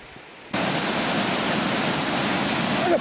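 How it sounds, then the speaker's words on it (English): A rainforest waterfall roars in as a loud, steady broadband rush of falling water. It starts abruptly after a brief quiet moment, then holds constant and close. "I reckon I can hear some waterfalls now."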